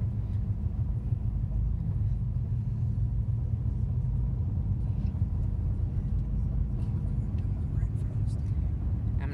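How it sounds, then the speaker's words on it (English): Steady rush-hour traffic of many cars near a stadium in Minneapolis, heard as a continuous low rumble with a faint hiss on top and no distinct passes. "There's a lot of cars."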